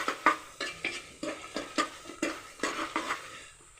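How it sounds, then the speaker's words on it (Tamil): Curry with chili powder being sautéed in a pan for a family Sunday meal: rhythmic spatula scrapes and stirs against the pan, about a dozen strokes over a soft sizzle, no voices. "மிளகாத்தூள் போட்டுட்டு நல்லா வதக்கணும்"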